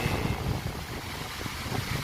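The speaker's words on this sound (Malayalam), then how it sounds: "ഭയങ്കര കാറ്റും മഴയും. കാറ്റടിച്ചു മഴ പെയ്യുന്നു." Strong gusty wind roars steadily with a rushing, rain-like hiss as wind drives rain in Venice in summer, loud and continuous with no voices.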